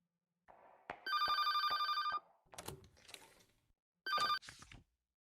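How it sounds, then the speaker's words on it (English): An old-style electronic telephone ringtone trills in two bursts, a longer ring followed by a short one after a pause, fairly close, with faint rustling and movement sounds between rings in an indoor room. "the moment I heard the ringtone, I remembered the name of the device that made the sound"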